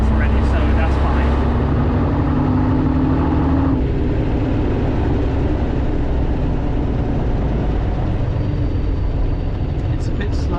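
An AEC Regent III bus engine runs loud and close from inside on route 418 to Epsom, a continuous rumbling drone with gear-like pitch shifts, while people talk over it.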